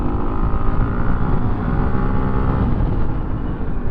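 A 2024 Husqvarna FE501S 500cc dirt bike engine while riding, a loud, steady, close engine drone with a rough low rumble and constant wind noise, no talking.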